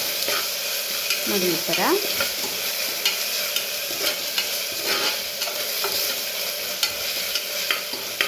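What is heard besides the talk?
frying fenugreek leaves in a pan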